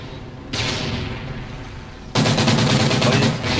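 Gunfire in a competitive team shooter match, with one burst of shots followed by a louder, denser volley fired through a wall, loud and close with no talk.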